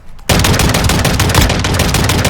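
Rapid gunfire erupts after a brief quiet moment in Call of Duty Warzone Mobile, a loud, sustained burst of repeated shots, with a shotgun in hand, continuing without break to the end.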